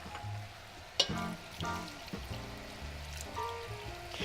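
Chicken stock simmers with wine, thyme and bay leaves in a braising pan alongside lamb shank, giving a soft steady sizzle and bubbling with light clinks and stirring, close and gentle with no talking.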